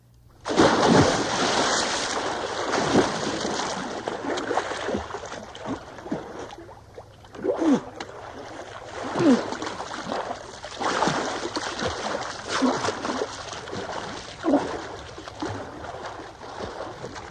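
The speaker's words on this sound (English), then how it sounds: "They both fell over and splashed heavily into the water." Two bodies splashing heavily into pond water, followed by repeated churning and thrashing splashes that rise and fall in loudness, close by and without talk.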